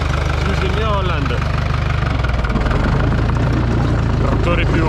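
A New Holland tractor engine runs steadily with a low, constant drone throughout, close and loud, while a person talks over it in the field.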